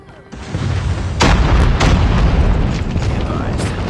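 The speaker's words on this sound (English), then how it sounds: "Enemy airstrike incoming." Heavy in-game explosions from an enemy airstrike in Call of Duty Mobile, a dense run of deep booms and blasts, loud and close, with the rumble carrying on throughout.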